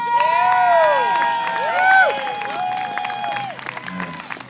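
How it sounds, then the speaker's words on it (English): Wedding guests clap and cheer for the bride and groom at a reception in Baldwin Park, with loud, lively voices and shouts riding over the applause throughout. "Let's have a large round of applause for the bride and the groom."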